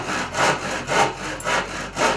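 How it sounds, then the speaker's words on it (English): A handsaw cuts into pallet wood with five steady, evenly paced rasping strokes, each pull and push loud and close, with no voices over the sawing. "I'm going to start by making an initial cut, just drawing the blade back across here"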